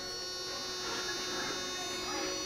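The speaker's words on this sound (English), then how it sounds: "You can hear the tone in the background. That's my concentrator." An oxygen concentrator hums steadily in the background of a room beside an electrical panel, a faint constant tone with a few steady pitched lines and no talk.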